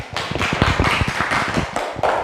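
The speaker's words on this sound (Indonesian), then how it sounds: "Beri tepuk tangan." Schoolchildren in a classroom clap together in a dense, steady burst of hand claps lasting a couple of seconds, close and fairly loud, with no talking over it.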